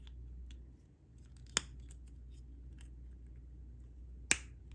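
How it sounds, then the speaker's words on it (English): A metal keychain ring snaps into place on a handmade sublimation keychain, with two sharp, close clicks a few seconds apart against quiet room tone. "And it's snapped, so it's attached."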